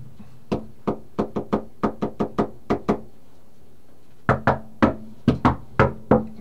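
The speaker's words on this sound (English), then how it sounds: "That's not the new secret knock." Knuckles rap on a door in a sharp, close sequence: a steady run of about a dozen knocks, a short pause, then a second, more irregular burst of knocks, with no talk.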